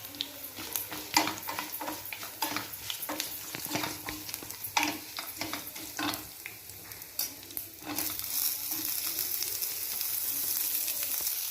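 Chopped onions fry and sizzle in a pan for a festive Katina Saaru rasam, with a steady crackle broken by repeated stirring scrapes. The sizzle swells louder toward the end.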